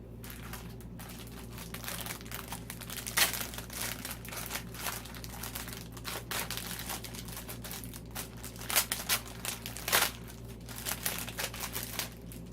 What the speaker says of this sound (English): There's so much to unwrap here.